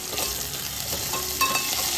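Garlic, curry leaves and chili tempering for dal stirred in a hot oiled pan, giving a steady crackling sizzle with soft scraping strokes throughout, close and fairly loud with no talking.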